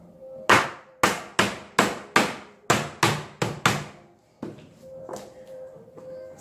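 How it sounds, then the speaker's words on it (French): Ten or so sharp taps of a small hammer fitting PVC floor planks into place, evenly spaced and close, then a few softer scattered knocks and faint shuffling. "Un petit marteau, d'accord."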